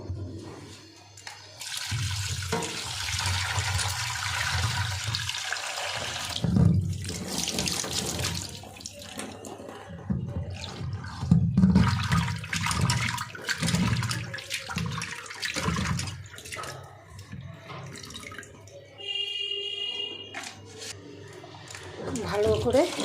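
Kajli fish washed under a running kitchen tap, with water gushing and splashing continuously into a sink, rising and falling as the fish is rubbed and rinsed.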